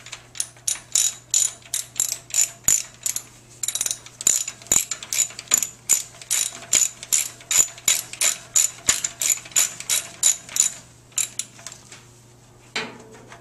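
A ratchet wrench loosens a bolt that passes through the highway bar of a Victory motorcycle, giving about thirty rapid, evenly spaced clicks with brief pauses, close and clear, with no talking.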